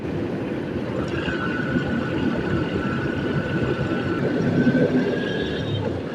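Steady rumble of a metro train running overhead, heard from a motorbike riding beneath the elevated line toward Mirpur 12 in Dhaka at night, with a faint tonal whine over continuous road and wind noise.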